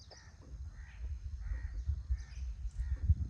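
Crows caw in a series of harsh calls, several birds at a moderate distance over low rumbling background noise.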